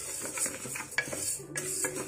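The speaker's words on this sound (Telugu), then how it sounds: "సో పప్పుని ఇలా కలుపుతూ ఉండాలండి, లేదంటే మాడిపోతుంది." A spoon stirring dal (lentils) as they dry-fry in a pan on the stove: close scraping and light clinks of metal against the pan, repeated in a steady rhythm with no talk.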